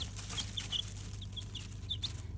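Baby chicks kept in a box under a heat light give repeated high, thin peeps, scattered irregularly over a low steady hum, fairly quiet and close.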